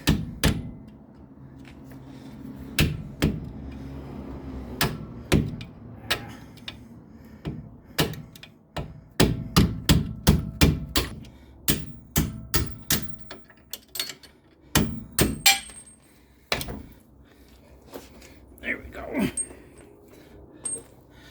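Metal punch hammered to drive parts out of a 2004 Oldsmobile Alero rear strut, a long series of sharp metallic taps, irregular then quicker, close and fairly loud with some quieter clatter between.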